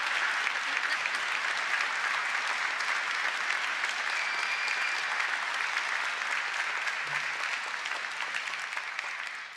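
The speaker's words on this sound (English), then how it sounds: "When the applause dies down." Sustained applause from a graduation audience at a Dundee University ceremony, honouring the conferral of a Doctor of Laws degree; steady, dense clapping fills the hall throughout and fades slightly near the end.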